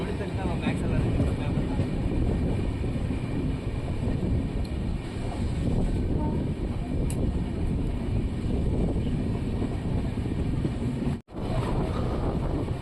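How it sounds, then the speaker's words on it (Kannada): Basava Express train pulling into Doddaballapur railway station, a loud continuous roar and rumble heard from on board with wind buffeting, steady throughout with a brief drop near the end. "ನಮ್ಮ ಟ್ರೈನ್ ಈಗ ದೊಡ್ಡಬಳ್ಳಾಪುರ ರೈಲು ನಿಲ್ದಾಣಕ್ಕೆ ಎಂಟ್ರಿ ಆಗ್ತಿದೆ"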